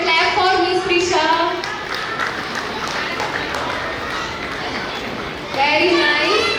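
Audience at a school gathering applauding a prize winner: steady crowd clapping beneath a voice on a microphone, which fades out at the end.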